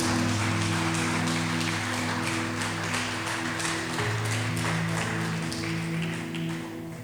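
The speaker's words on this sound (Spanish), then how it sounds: "Denle un fuerte aplauso al Señor y póngase de pie" Applause from a church congregation during a sermon, a moderate patter of clapping over sustained organ-like music, fairly distant and fading slightly toward the end.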